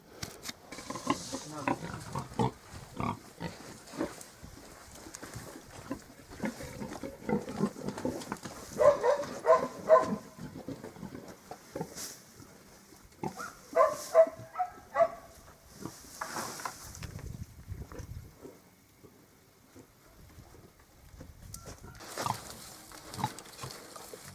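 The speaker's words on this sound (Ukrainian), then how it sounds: "Так що зараз ось я і дам поросяткам, подивимося, що вони будуть з нею робити." Pigs being given alfalfa grunt and snuffle close by in irregular bursts, with chewing and rustling, while a person talks intermittently over them.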